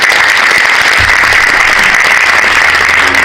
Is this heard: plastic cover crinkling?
no